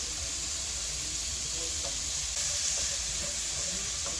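Onions sizzle steadily while frying in a pan for a beef and matoke stew, a soft, even crackling hiss throughout with no talking.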